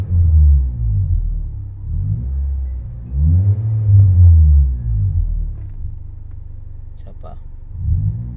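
A Honda Brio's engine idles and revs in broad low swells, rising twice and settling, close and loud, with a person speaking briefly near the end.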